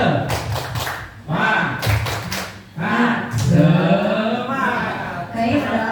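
A group performs the 'tepuk semangat' rhythmic clap at a teacher learning workshop: sharp clustered hand claps in a patterned beat, followed by people talking.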